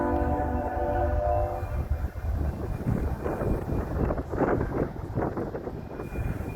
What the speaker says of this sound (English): just got another train passing